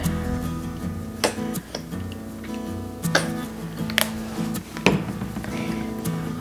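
A spoon stirs ketchup and mustard into a pot of bacon cheeseburger soup, sending sharp taps and clinks against the pot at irregular intervals over a low steady background.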